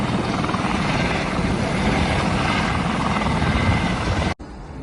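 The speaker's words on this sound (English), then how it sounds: "The helicopter's finally taking off" A helicopter taking off roars loudly and steadily nearby beside the Yarra River in Australia, its engine and rotor noise filling the air before cutting off abruptly.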